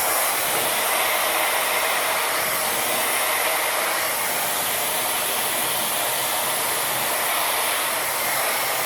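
A Tymo Airhype Lite hair dryer runs at full power, a loud, steady, close-up rushing whoosh of blown air that holds constant throughout with no talking.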